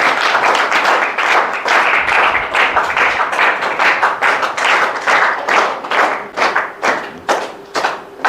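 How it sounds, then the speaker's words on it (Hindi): An audience applauds a felicitation ceremony at a village school in Churu district: brisk, loud, rhythmic clapping from many hands that keeps going, with pulses thinning slightly toward the end. "जोरदार तालियों से अभिनंदन।"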